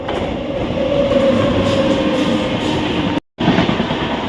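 A train rumbles steadily at platform three of Fuleshwar station with a continuous low roar and faint rail noise, briefly cutting out near the end.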